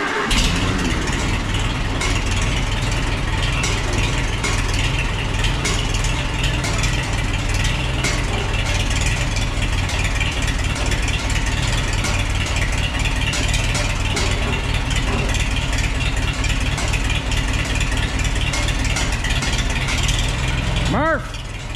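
An International tractor engine cranks, catches and settles into a loud, steady idle with a rapid mechanical clatter, running for a long stretch in a farm shed.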